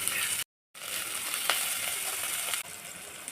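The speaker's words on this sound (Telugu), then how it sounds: "పసుపు ఉప్పు అల్లం పేస్ట్ మీడియం ఫ్లేమ్లో పెట్టి కలుపుకోవాలండి ఉల్లిగడ్డ మాడకుండా ఉంటుంది" Sliced onions with turmeric, salt and ginger paste fry in a pan over medium flame, giving a loud, continuous sizzle broken by a brief gap, with a few scraping stirs.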